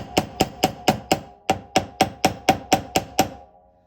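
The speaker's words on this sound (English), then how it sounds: "and I will hammer" A steady run of about a dozen sharp metallic hammer strikes flattening a wire pendant on a hard surface, evenly paced and close, with a faint ringing tone between blows.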